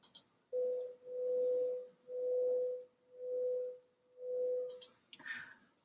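Two pure tones at 500 Hz and 501 Hz play together, producing a steady hum that swells and fades about once per second for five slow beats, followed by a few faint clicks.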